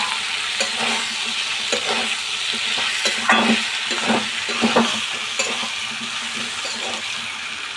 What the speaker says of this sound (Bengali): আলুটা মশলার সাথে ভালো করে কষানো হয়ে গেছে